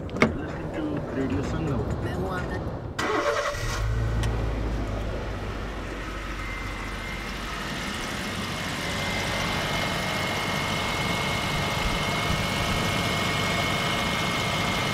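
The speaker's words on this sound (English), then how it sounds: "now it's a matter of turning the ignition on," Car engine cranked with a portable jump starter, a short loud start at about three seconds that settles into a steady low idle running to the end, with a person talking over part of it.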